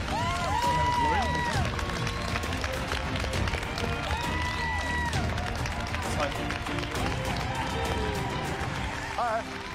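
An audience applauds and cheers for MasterChef finalists as former contestants return, a steady wash of clapping and crowd noise under louder talk and swelling tones.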